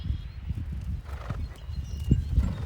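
Horse hooves beating steadily at close range while the horse is ridden during a schooling session, with soft rhythmic thuds and no voice over them.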